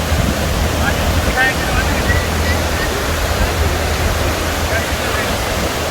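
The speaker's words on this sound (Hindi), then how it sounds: "वो है नदी, और ये नदी साथ साथ जाएगी हमारे जब तक वी विल रीच कारगिल" A river rushes beside a mountain road on the way through Zojila toward Kargil, a loud steady broadband roar with wind buffeting the microphone throughout.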